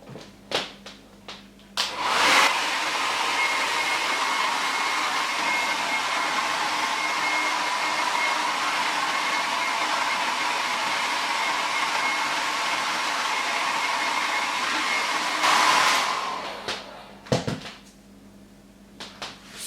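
A hair dryer blows at home, a steady broadband whoosh with a faint whine that runs continuously for about thirteen seconds, switched on near the start and off near the end, with brief clicks and handling noises around it.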